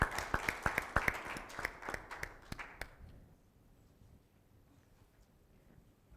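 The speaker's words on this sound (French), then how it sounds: "applaud Jesus. Hallelujah." Church congregation applauding, a burst of scattered, close hand claps for about three seconds that fades out quickly into quiet room tone.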